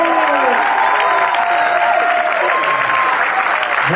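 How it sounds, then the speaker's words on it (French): A theater audience at a film debate for Man of Tai Chi breaks into steady, dense applause throughout, with a few voices rising over the clapping. "applaudissez, que vous attendez, évidemment, celui qui va répondre à toutes vos questions, Monsieur Keanu Reeves."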